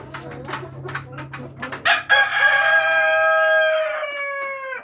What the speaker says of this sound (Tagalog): Yan yung rooster natin mga Kabi Farming. Yan. Rhode Island.